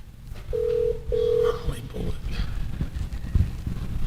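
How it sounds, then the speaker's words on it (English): Touch-tone telephone dialing, two steady tones of a keypad or dialing signal near the start, heard over background noise and muffled low rumble. "We're going to keep trying to get Josh on the phone"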